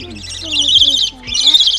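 A trained bird gives two bright, high chirping calls close by, each lasting about half a second with a short gap between them, heard alongside a person's encouraging voice.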